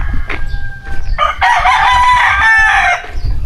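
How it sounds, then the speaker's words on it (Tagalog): A rooster crows loudly and nearby, one long drawn-out call after a few short clucks, outdoors in a Batangas village. "Ayun ang manok"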